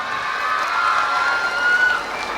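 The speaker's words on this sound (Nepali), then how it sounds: "त्यो सानो भाइको लागि ताली बजाइदिनुहोस् न सबैजनाले" A school parents' day audience claps and cheers, a sustained mass of applause and crowd noise at moderate distance, fairly even with slight swells and no speech.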